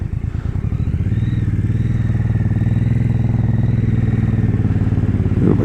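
A new 2024 MBP C1002V one-litre V-twin motorcycle pulls away in first gear, its loud, close, throbbing engine pulsing steadily and rising slightly as it moves off.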